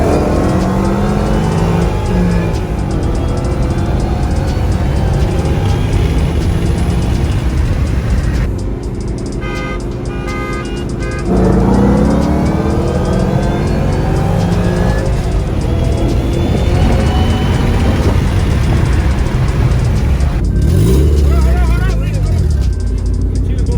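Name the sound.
car doing a burnout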